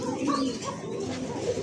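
Lahori pigeons, including a large silver-coloured pair, coo steadily at a big pigeon farm, several soft overlapping coos forming a continuous near murmur with faint chirps.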